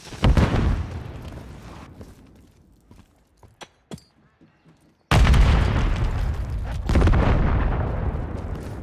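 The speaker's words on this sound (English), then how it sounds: "Stun grenade out!" A stun grenade goes off in Call of Duty MW3 with a loud, broadband blast, then a few scattered pops and crackles die down before a second sustained roar of noise swells up and carries on to the end.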